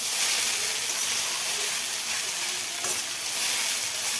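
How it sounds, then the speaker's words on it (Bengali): Chowmein with egg, onion and chili frying in a pan, a steady broadband sizzle and hiss with faint stirring, close and continuous throughout without a break. "আমি চাউমিন করেছি ডিম দিয়ে, পেঁয়াজ দিয়ে আর লঙ্কা দিয়ে"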